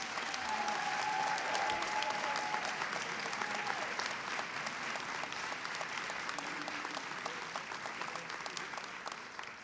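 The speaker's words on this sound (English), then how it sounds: "Let's have another round of applause for all of these outstanding students." Sustained applause from an audience at a spring awards convocation honoring outstanding students, a dense, steady wash of clapping that holds loud throughout and eases slightly toward the end.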